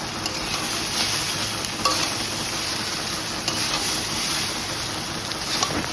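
Chowmein noodles tossed into a pan with scrambled egg fry with a constant crackling hiss, joined by scraping stir strokes and a few sharp clicks, close and fairly loud with no talking.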